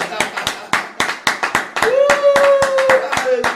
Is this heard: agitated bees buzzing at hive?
no